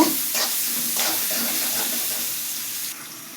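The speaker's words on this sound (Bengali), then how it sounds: "পেঁয়াজ মরিচ দিয়ে একটু ভাজা ভাজা করে তারপর একটু কষিয়ে নেব" A steady, soft sizzle of onions and chilies frying in a pan, with occasional light stirring scrapes, continuous and close with no voices.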